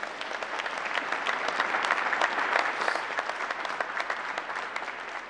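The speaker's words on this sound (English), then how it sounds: "give her a big round of applause" A room full of people claps steadily and warmly, the applause swelling slightly in the middle and holding strong to the end.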